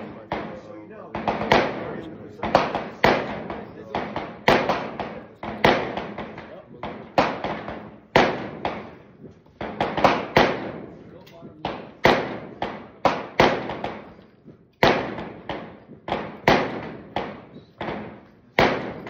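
Repeated gunshots at an outdoor shooting range, firing at 100 yards, loud sharp cracks in irregular bursts, sometimes closely spaced and sometimes separated by short pauses, with some talk in between.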